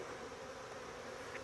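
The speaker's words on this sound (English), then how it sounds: "So we can turn our attention back over here" A honey bee swarm gives off a steady, faint, even drone that holds without a break.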